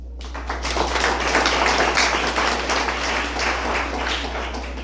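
Continuous crowd applause at a gathering of a motorcycle association, a dense, steady wash of many clapping hands held at an even level throughout, over a low constant hum.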